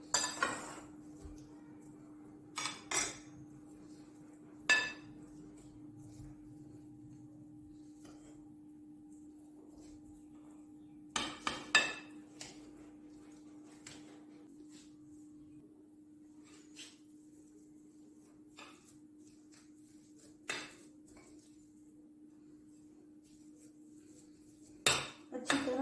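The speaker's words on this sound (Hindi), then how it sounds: "ये उबले हुए आलू है, इसको मैंने मैश करना है।" Boiled potatoes mashed in a bowl, heard as scattered sharp clinks and knocks of a utensil against the dish with long quiet gaps and a faint steady hum underneath.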